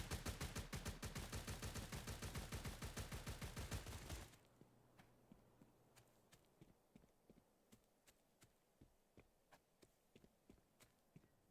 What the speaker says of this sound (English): They're shooting at a damn skitterer.